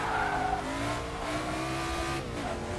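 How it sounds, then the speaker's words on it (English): Loud McLaren M8C Can-Am race car engine from the vintage Assetto Corsa mod, with a four-speed gearbox, droning steadily as its pitch climbs under throttle, with a brief dip and recovery near the end and no talk. "we are here in the McLaren M8C Can-Am car"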